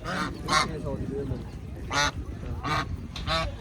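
Several loud honking duck calls come in short bursts over a busy, noisy livestock market at Muktsar Sahib, with some voices mixed in.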